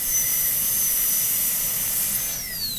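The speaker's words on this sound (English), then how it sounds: "you just drill the holes in the corners and then get rid of the excess" A high-pitched dental drill whines steadily while cutting a Class II tooth preparation, a loud continuous tone that holds throughout and dips slightly in pitch near the end, with no talking.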